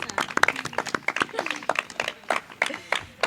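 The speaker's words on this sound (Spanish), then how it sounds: "vamos a pedir un aplauso para nuestra invitada, Marta Vilella." A live studio audience gives a guest a round of applause, scattered individual claps rising and falling fairly close, with some voices underneath.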